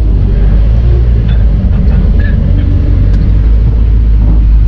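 A Volkswagen Golf's interior noise while driving, with loud continuous low rumble and road drone plus a few faint odd squeaks and ticks layered over it.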